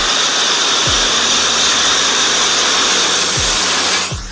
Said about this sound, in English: That wind sounds like a vacuum.